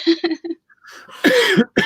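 A few short, sharp coughs in quick succession, followed by a throaty rasp and one more close cough.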